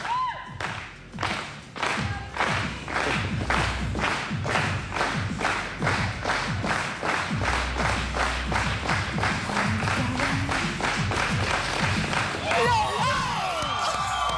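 A crowd gathered by a TV station builds a slow clap for a world record attempt: loud, evenly spaced claps in unison that gradually speed up over about fourteen seconds, with talk and cheering mixed in and a burst of cheers at the end.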